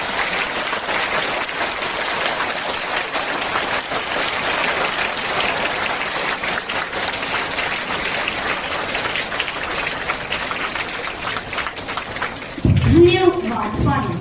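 Sustained applause from the audience at a St. Michael's Sr. Sec. School Worker's Day celebration in New Delhi, a loud, continuous rush of many hands clapping, with a brief burst of nearby voices near the end.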